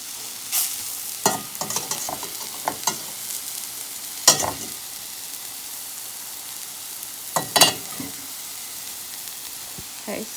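Scrambled-style omelette with radish greens and collard greens sizzles steadily in a pan, a constant low frying hiss broken by occasional scraping stirs of a utensil, with no talk.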